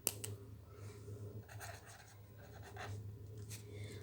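Pen scratching across paper while writing out the required values of a Class 10 physics lens problem: soft intermittent strokes, close and faint, over a low hum with no talk.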